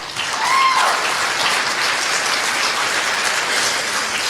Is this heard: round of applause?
yes